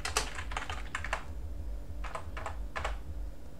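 Someone types a full name on a computer keyboard during an Arch Linux install, with quick clusters of close, crisp keystrokes and short pauses between them, and no talking.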